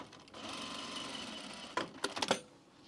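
A sewing machine stitches men's pants fabric, running steadily and quietly for over a second with a whirring hum, then a few short clattering bursts as it stops.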